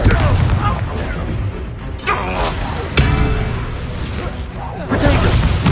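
Booming blasts from the Confringo fire spell in Hogwarts Legacy, several loud impacts with whooshing bursts across a dense, noisy scene, with a voice speaking among them.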